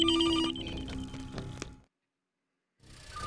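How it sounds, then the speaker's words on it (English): Near-miss shot in a video game followed by a steady high electronic ringing tone, loud at first and fading out over about a second and a half, then a stretch of silence before game noise returns. "Got a little ringing over on the side there."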